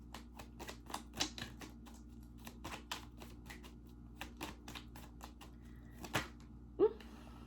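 Tarot cards being shuffled in quick bursts of soft papery riffles and taps, close up and fairly quiet, with a few louder snaps along the way.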